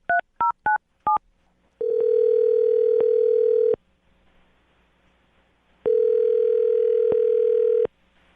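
A call placed during a morning radio show begins with four quick touch-tone dialing beeps. Two long, loud ringback tones follow with a gap between them, and no one talks.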